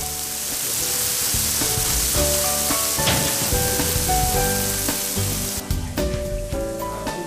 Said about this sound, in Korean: 주물에 고기를 올리자마자 연기가 피어오르기 시작하더니 금방 요란한 소리와 함께 먹음직스럽게 익어가기 시작한다